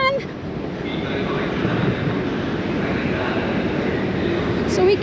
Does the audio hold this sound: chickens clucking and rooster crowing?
no